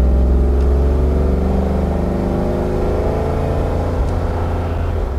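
A Toyota Land Cruiser 80 Series with an LS engine conversion and paddle shift drives along a road, its steady, close engine drone and road rumble running continuously without speech.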